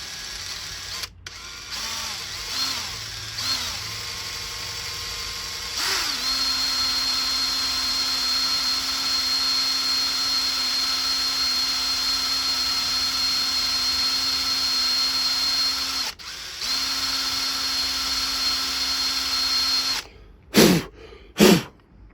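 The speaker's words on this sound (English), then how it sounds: "Drilling." A power drill drills out a screw on a brick hammer, running loud and steady with pitch changes, a brief pause midway, then a few short bursts near the end.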